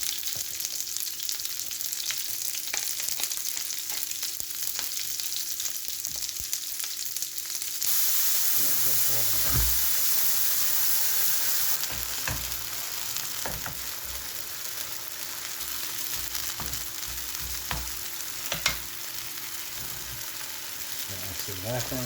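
Meat sears in a hot pan before braising, with a steady close sizzle and crackle that swells briefly louder, interrupted by occasional stirring and scraping noises.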